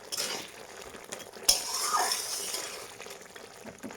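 Fried bata fish being stirred into a bubbling tomato and poppy seed gravy in a pan, with a soft scrape of a spoon and a sharp utensil knock, continuous gentle sizzle and simmer throughout, close and fairly quiet.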